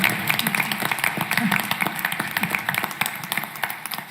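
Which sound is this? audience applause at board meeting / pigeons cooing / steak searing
audience applause at board meeting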